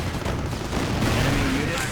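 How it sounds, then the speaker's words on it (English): A flak gun fires in a strategy war game amid a battle, a dense rumbling burst of rapid gunfire and explosions, loud and continuous. "Flak shoots again and scores another kill."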